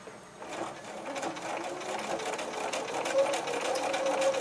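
A sewing machine stitches fabric for a small backpack for an 18-inch doll, a steady close whirring run of needle strokes that continues throughout, with a faint voice underneath.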